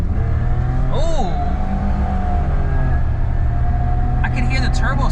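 A Suzuki Alto Works kei car accelerates hard on an open road, its turbo spooling over a steady, loud engine drone that builds through the run, with a brief voiced exclamation early on.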